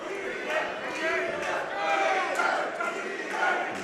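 A boxing crowd at an All Star Boxing bout between Alejandro Ochoa and Jarret Jeter roars and shouts for Jeter, a steady wash of massed voices that swells and dips.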